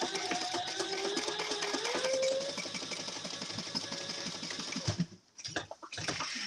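A freshly oiled and cleaned sewing machine stitches fast in a rapid, even whirring patter that runs steadily, then cuts out near the end, leaving a few short broken bursts.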